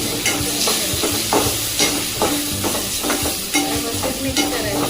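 A spoon stirs an onion, turmeric and chili powder masala in a hot pan with a steady sizzle, scraping strokes repeating at a regular rhythm, close and fairly loud, with no talking.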